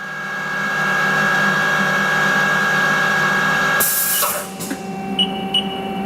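A 2018 Haas ST10Y CNC lathe with its live tool spinning at 3,000 RPM, a steady loud machine whine and hum that cuts off abruptly, followed by faint clicks and a quiet hum.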